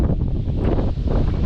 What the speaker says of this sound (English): Wow, this wind's crazy.